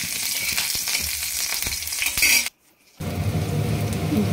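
Green chilies dropped into a hot pan of oil with cumin, mustard seeds and garlic: a loud, close sizzle with spatula clinks and scrapes against the metal, a brief silent cut, then the frying resumes more softly.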